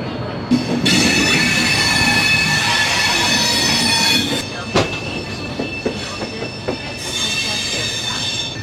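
The New Delhi to Howrah Rajdhani Express departs with loud metallic wheel squeals, rumbling carriages and intermittent rail clatter, heard close and continuous.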